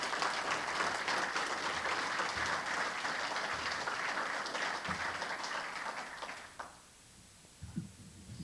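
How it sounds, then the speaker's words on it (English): Applause at a Stockton Police Department awards ceremony honoring personnel: a large audience claps steadily and loudly for several seconds before it fades out, leaving a quiet room. "Let's give these personnel a round of applause"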